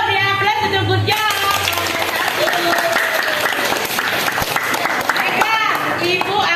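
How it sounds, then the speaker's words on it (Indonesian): A classroom of students applauds together for a group's finished presentation, dense steady clapping filling the whole stretch with voices mixed in, loud and close. "Yuk, beri aplaus untuk good job."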